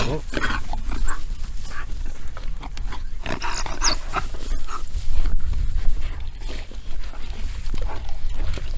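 African wild dogs at a kill, with a spotted hyena approaching, give a dense run of close, agitated yelps, whines and chatter that never lets up, over constant outdoor rumble.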